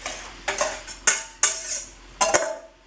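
Pasta being tossed through carbonara sauce in a pan, five or six sharp clinks and scrapes of a utensil against the metal at irregular intervals, close and fairly loud, with no voices.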